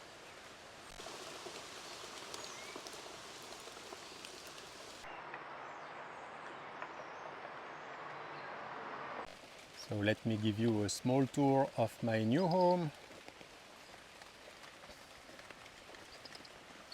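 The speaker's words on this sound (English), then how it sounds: "raining quite heavily at the moment" Heavy rain pours down in a jungle, heard from shelter beneath a fallen tree during a storm: a steady, dense hiss that fills the whole clip while someone talks over it.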